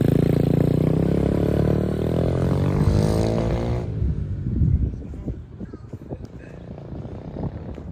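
An SSR125 dirt bike with a new carburetor and a bent frame idles loudly up close, then pulls away and fades into the distance, leaving scattered clatter and a few faint voices.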